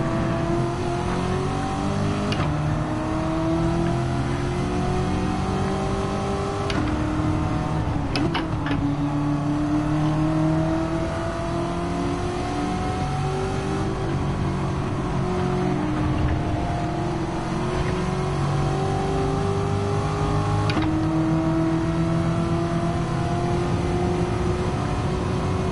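Race car engines rev and whine through gear changes in the Gran Turismo 7 racing game, with several cars droning steadily and rising in pitch over a continuous loud bed of engine noise.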